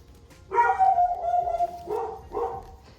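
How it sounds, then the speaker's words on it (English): A dog barks and howls a few times at moderate distance, drawn-out then shorter yelps, with no talking. "Yeah, I'm sorry about the dogs barking."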